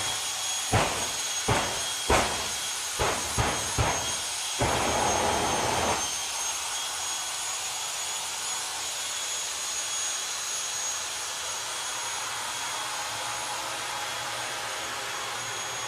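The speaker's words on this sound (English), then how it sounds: "So this is where Martin winds up the thrust, gives it a bit more oomph and tries to destroy everything in the tower." A jet-powered drag racer at a drag strip roars with a loud, steady blast of thrust, preceded by several sharp bangs and a surge that settles into a continuous broadband rush.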